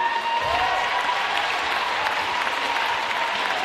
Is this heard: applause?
yes